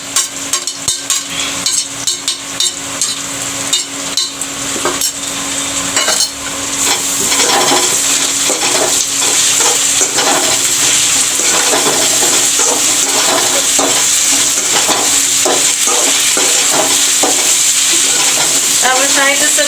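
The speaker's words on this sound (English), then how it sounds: "This I will put in the onions along with it to fry." Onions fry in a pan with crushed garlic, ginger and red and green chili for a Bihari-style egg curry, giving a steady loud sizzle with intermittent stirring scrapes that grows fuller partway through.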